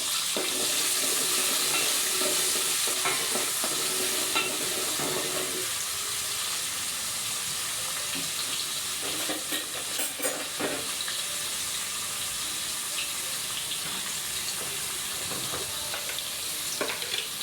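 About a cup of chopped onion sizzles loudly in a hot pan for a mutton and split chickpea dish, with a constant bright hiss and scattered scraping stirs throughout and no talking.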